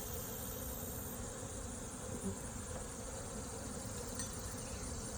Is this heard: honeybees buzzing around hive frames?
yes